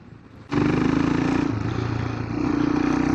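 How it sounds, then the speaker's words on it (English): A Royal Enfield Himalayan 462 motorcycle pulls away on light throttle, its engine note rising suddenly after a quiet start and holding a steady, loud drone with a brief shift in pitch midway. "you can see I'm just barely getting the throttle and the bike wants to yank forward"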